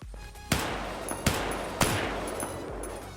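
Gunshots from a modded gun in Unturned fired at a zombie: three sharp, loud reports spaced about a second apart, each trailing off over a steady background hum.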